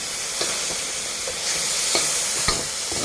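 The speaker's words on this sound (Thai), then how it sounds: "ผัดคลุกเคล้าให้เข้ากันค่ะ" Mixed vegetables including peas, corn and carrot stir-fried in a hot pan, a steady sizzle with repeated scraping and tossing strokes from a spatula.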